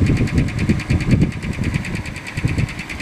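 Idling engine of a 1958 Dodge W100 Power Wagon, a steady rhythmic low rumble with a regular ticking pulse, heard close and alone with no voices.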